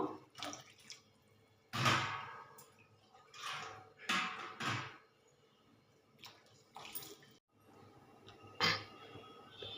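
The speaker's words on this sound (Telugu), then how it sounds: "కొంచెం చిక్కగా ఉన్నాయి కాబట్టి ఒక గ్లాస్ నీళ్ళు కూడా పోస్తున్నాను" A glass of water is poured into cooked dal for sambar, giving intermittent splashing and dripping bursts that come and go close by, with quiet pauses between pours.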